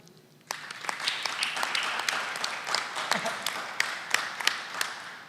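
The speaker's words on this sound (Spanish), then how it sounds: "para quienes pido un aplauso" A museum audience at a roundtable event breaks into applause after a short quiet start, a moderate room of clapping with distinct individual claps continuing to the end.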